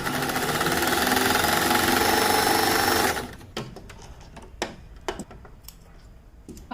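Sewing machine running a continuous stitch line on elastic for a newborn baby cap or booties, a steady rapid whirring hum for about three seconds, then stopping to leave sparse clicks and handling noises.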